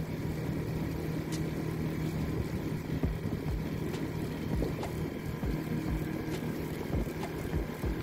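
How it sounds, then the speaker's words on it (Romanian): Motorboat running on the low Danube near the navigation channel at dawn, a steady engine drone with wind buffeting the microphone and occasional slaps against the hull throughout. "Așa că am hotărât cu Adi să plecăm cu barca pe larg."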